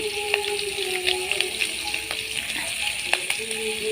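Panch phoron spices sizzle in mustard oil, making a steady, fairly faint frying hiss broken by small pops and crackles.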